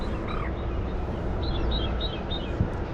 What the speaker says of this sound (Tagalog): ingay ng mga ibon